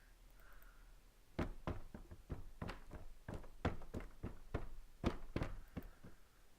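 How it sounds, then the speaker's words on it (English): Wooden debris knocks and bumps in an irregular run of about a dozen close, dry impacts, some clustered in quick pairs, with no other sound around them. "Debris, wood bumping."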